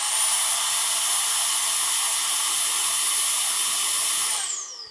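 A Milwaukee M18 Precision Blower (0887-20) runs steadily with a loud, broadband airy roar and a high whine, then winds down at the end.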